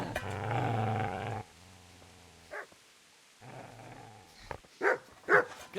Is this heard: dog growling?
yes